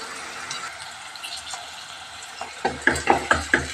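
Onions and green chillies go into a hot cooking pan: a quiet sizzle at first, then a run of rhythmic, fairly loud stirring clatters and spits over the last second.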